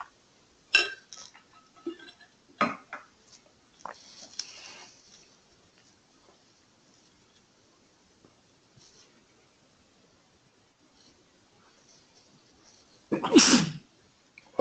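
A single loud, sharp sneeze bursts out near the end of a quiet stretch in a software training class, after a few soft clicks and taps, with no talk around it.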